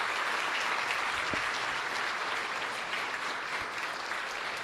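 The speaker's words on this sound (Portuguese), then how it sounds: "Pode dar uma salva de palmas aí para Jesus." A church congregation at a worship service applauds in a dense, steady wash of clapping that holds evenly throughout, moderately distant and without talk.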